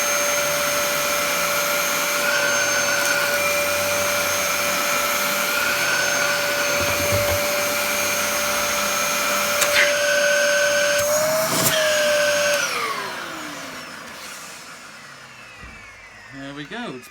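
A Numatic vacuum cleaner runs with a loud, steady whine and airy rush, then is switched off so the tone drops away and winds down to near silence.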